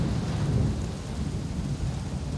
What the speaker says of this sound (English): It's actually quite dangerous to hike when it's thunderstorming like that